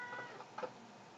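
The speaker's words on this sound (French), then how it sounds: "Excusez le petit miaulement de fond, mon chat qui veut participer à la fête" A brief, faint cat meow rises once in the background, a short two-part cry over quiet room hiss.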